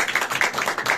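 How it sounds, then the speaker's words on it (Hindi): A small group of children clap together in a short, quick burst of applause, fairly close and lively, with no talk over it. "तालियां बजाओ बच्चे आपको"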